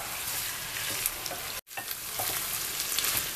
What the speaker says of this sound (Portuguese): Vamos deixá-la fritar um pouquinho aqui com todos esses ingredientes.